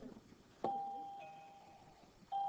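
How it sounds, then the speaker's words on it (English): A two-tone doorbell chime rings out in a classroom setting: a sharp strike followed by a sustained ringing tone, then a second chime near the end, fairly quiet with no talking. "she even broke out the doorbell."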